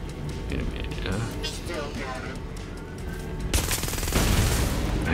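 Gunfire from Watch Dogs Legion crackles in bursts beneath constant voice chat, then swells into a louder, denser volley near the end.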